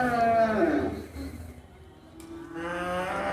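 Cattle at a Saturday livestock market low twice, one drawn-out moo at the start and another near the end, at moderate distance over quiet background murmur.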